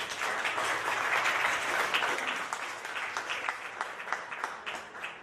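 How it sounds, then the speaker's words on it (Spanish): An audience at a book presentation in Colombia breaks into sustained applause, a dense wash of many hands clapping that stays full before thinning slightly toward the end. "que merece un aplauso aplaudante"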